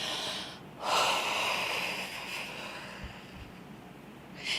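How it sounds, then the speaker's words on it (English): A long, deep belly breath rushes out close to the microphone, the exhale pushing out all the air in one steady, breathy stream that fades toward the end. "you will do this deep belly breathing and letting all of that air out"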